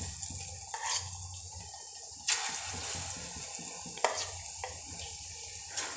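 Boiled eggs frying in hot oil, a steady sizzle and crackle with occasional sharper pops and a few stirring clatters, close and moderately loud.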